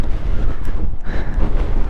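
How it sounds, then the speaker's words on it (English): Strong wind buffets the microphone outdoors beside a mausoleum in Kazakhstan after stopping a ride, a loud continuous rumbling roar that rises and falls, with no voices. "it's windy when you stop though"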